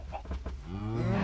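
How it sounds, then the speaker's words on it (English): Cows mooing in the Minecraft video game, a low drawn-out moo rising near the end after a few shorter bovine grunts, loud and close with no talk over it. "Whoa, that's a lot of cows."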